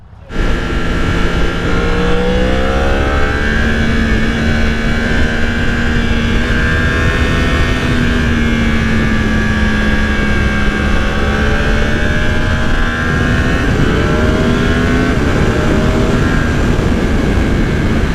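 Engine of a new 2020 Yamaha R1 motorcycle, loud and close, droning steadily with its pitch rising and falling as the throttle changes, sustained for the whole stretch without talk.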